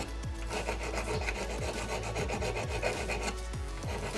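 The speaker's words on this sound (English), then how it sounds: "I'm just using my little needle file to get rid of those" A small needle file rasps over silver solder on handmade brass and silver jewellery in quick, repeated strokes, a close, scratchy rhythmic filing with no talking.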